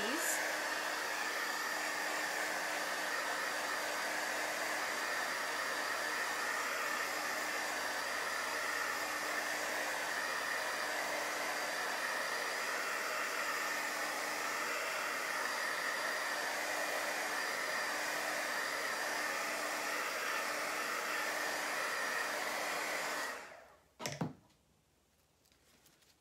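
Heat tool blowing steadily to dry chalk paste, a constant loud whooshing hum for over twenty seconds before it switches off with a click.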